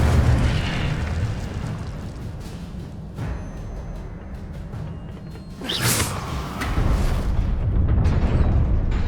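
Incendio fire spell bursts in Hogwarts Legacy, a loud whooshing blast flaring up near the six-second mark over a steady rumbling game soundscape, with no talking.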